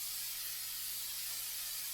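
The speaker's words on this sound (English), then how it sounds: "We're actually going to first spray this with coconut oil," Coconut oil cooking spray hisses into a slow cooker in one continuous, bright, airy spray lasting about two seconds, close and steady, with a faint low hum underneath and no talking.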